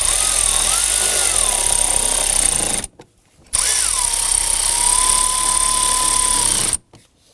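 A cordless driver runs screws into the bottom of an interior cover on a 2001-2009 Volvo S60, two loud whirring runs of a few seconds each, the motor pitch rising and settling, with a short silence between.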